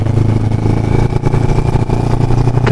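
A CFMoto GT400 motorcycle engine idles steadily at night to warm up, with a close, continuous low rumble and an even throb that does not rev up.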